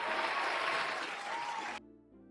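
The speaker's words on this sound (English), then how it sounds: "We'll give him a round of applause." Applause from an audience, a dense, steady patter of clapping that holds evenly for nearly two seconds, then cuts off abruptly into near silence.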